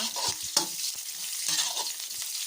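Shallots stir-fried in rendered pork lard hiss with a bright continuous sizzle, punctuated by several close utensil scrapes and one sharp tap of a spatula against the pan, no voices present.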